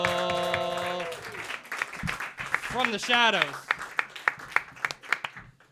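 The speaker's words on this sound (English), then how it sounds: "Start clapping right now for my friend and yours, Sarah" An audience claps for a comedian at a roast battle comedy show: a run of steady, fairly close hand claps rises after music fades and a host's voice speaks over the start.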